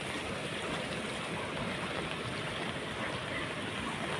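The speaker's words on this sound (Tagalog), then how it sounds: "Parang normal lang na tag-ulan. Ganun lang ang agos ng tubig niya." Rain-swollen stream water running steadily from the fields in the rainy season, a continuous, even rushing wash with no voices.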